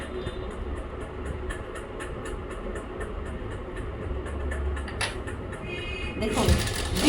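A sewing machine stitches along a kameez neckline with a fast, even mechanical patter under a voice, a louder rattle and clatter rising near the end.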